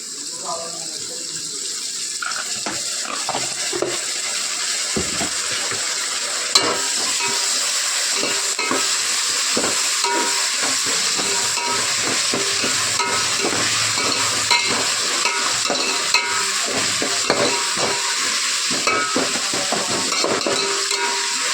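Onion and ginger-garlic paste frying in a pan, a steady crackling sizzle with frequent scrapes and clinks from stirring that runs continuously and close throughout.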